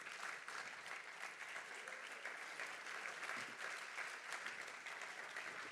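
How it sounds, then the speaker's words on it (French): An audience applauds a quantum levitation demonstration with a magnet, a dense, even wash of clapping lasting several seconds, heard from a distance and without speech. "vous applaudissez les phénomènes naturels"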